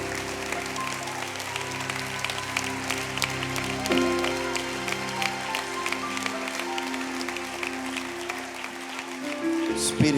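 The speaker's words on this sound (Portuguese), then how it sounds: "Aplauda Jesus Cristo." A church congregation applauds in a steady, dense wash of clapping that runs the whole length, with a low sustained organ or keyboard tone under it.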